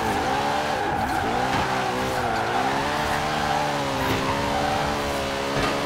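Hoonicorn drifting in Forza Horizon 4, its engine holding a steady droning roar with layered harmonics while tires squeal continuously through a long slide, loud and close with no talking.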